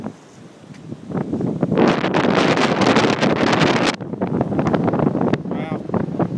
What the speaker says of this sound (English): Wow, that's a gust.